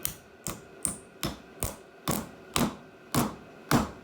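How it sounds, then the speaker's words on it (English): A hammer drives a shock absorber insert into place during an MG TC shock absorber rebuild: nine sharp, evenly spaced metallic knocks at about two per second, close and loud with no talking. "when they are snugly inserted and hammered in the middle, they expand and lock in place"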